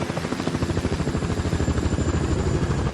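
Cartoon helicopter with a loud, steady rotor thump that chops rhythmically throughout, close and continuous with no talk over it.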